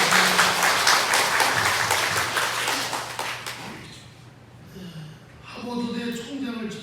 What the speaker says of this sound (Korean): 감사와 영광의 박수 올립시다